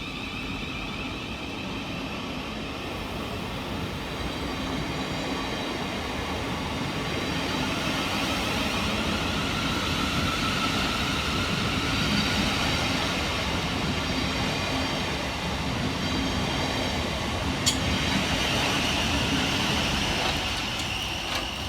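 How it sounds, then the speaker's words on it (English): Two Southeastern Class 707 electric trains, units 707001 and 707013, depart on the Hayes line, giving a sustained rumble and rolling wheel noise that swells gradually, with a brief sharp click near the end. "two departures 707001 and 707013, working the 1118 Southeastern service from London Charing Cross through to Hayes"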